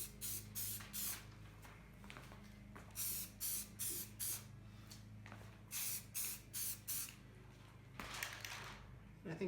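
Rust-Oleum primer sprays onto a metal lantern fount in short, repeated hissing bursts of about half a second, close and fairly quiet, with low background noise between them.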